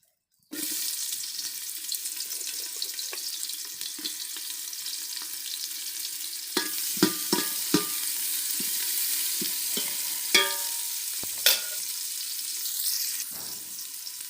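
Chopped onion going into hot oil with dried red chillies, starting a sudden steady sizzle after a short silence, with scattered utensil clicks and scrapes over the frying and no talking.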